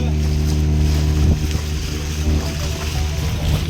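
A boat runs on the sea with a steady, loud engine drone and rushing water and wind, continuous and close throughout.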